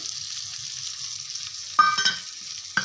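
Green chillies fry in oil with a steady broadband sizzle, and cumin, turmeric and coriander powder are stirred in. A few louder scraping stirs of the spoon land near the end, with no talking.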